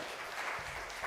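Audience at a talk gives one more brief round of applause, a soft, fairly distant patter of clapping heard only for a moment and at low level.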